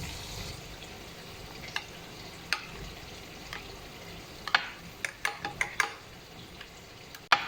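Chicken white karahi with yogurt, white pepper, coriander and cumin fries in oil in a pan, giving a steady soft sizzle broken by sharp clicks and scrapes from stirring.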